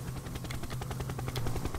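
A helicopter's rotor in the video game Happy Wheels chops steadily in rapid rhythmic pulses, faint and continuous for under two seconds.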